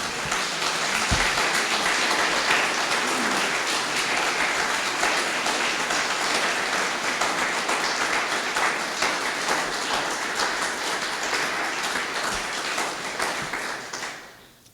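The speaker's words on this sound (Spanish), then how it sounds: "Dale un aplauso al Señor." A church congregation claps during a worship service, a dense, continuous round of applause that stays loud and even for most of fifteen seconds before quickly fading out at the end.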